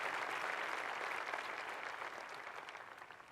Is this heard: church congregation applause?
yes